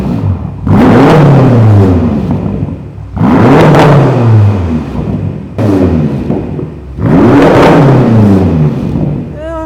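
A BMW X6M with its muffler deleted revs hard four times in a row, each burst a loud, raspy rise and fall of the engine close by, with brief pauses between.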